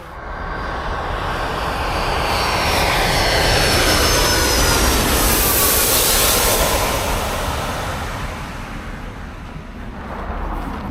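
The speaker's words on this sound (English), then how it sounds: "That was pretty sweet watching the 757 land on the blue ice runway." A Boeing 757 jet lands on a blue ice runway in Antarctica, its loud engine roar swelling and sweeping past over several seconds with a shifting whine, then easing off into a lower rush as it rolls out.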